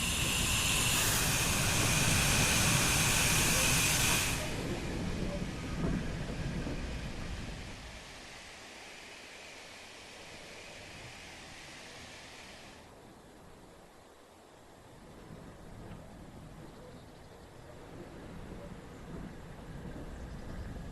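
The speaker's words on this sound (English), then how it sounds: "Begin by slowly opening the regulator to get the locomotive moving" A Class 8F steam locomotive in Train Sim World 5 starting to move as the regulator opens: a loud, broad steam hiss at first, then a steady rumbling roar that fades to a lower, quieter rush.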